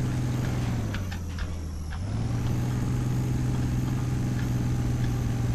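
A heavy truck engine labors up a mountain road in Spintires, a loud continuous low drone that dips briefly in pitch and then settles back into a strained steady hum.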